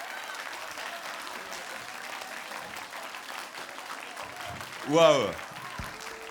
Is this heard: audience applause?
yes